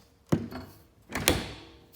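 Two soft thumping bumps about a second apart as a foam draft seal flap along the top of a door is pulled down into place, close and moderately quiet with no talking.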